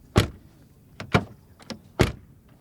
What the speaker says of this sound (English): what about the door closing sound?